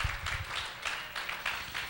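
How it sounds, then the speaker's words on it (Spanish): A congregation in church clapping in a loose rhythmic beat, bursts of hand claps pulsing roughly every third of a second, moderately faint and somewhat distant. "Dale aplauso al Señor"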